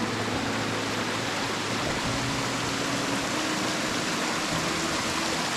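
Steady rushing water of a creek crossing on Mt Dalrymple, a broad even wash of flowing sound with a faint low hum underneath, continuous and unbroken throughout.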